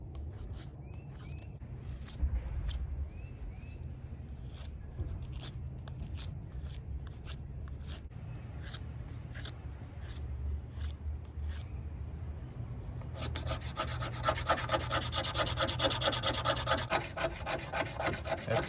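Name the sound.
carving feather sticks and wood shavings from a 2x6 board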